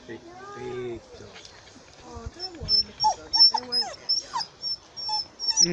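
A large dog at a zoo whimpers and yips in a run of short, high, whining cries that grow louder toward the end, with people talking nearby.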